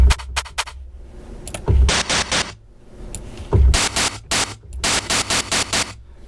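Synthesized key-stepped white noise shaped for a hi-hat plays in loud, choppy bursts, sharp repeated noise hits and short gated runs separated by near-silent gaps, with no voices.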